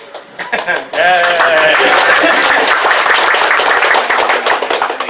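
Applause from a convention panel audience swells up suddenly after a few scattered claps and a brief voice, becoming a loud, dense, sustained roar of clapping with some cheering mixed in.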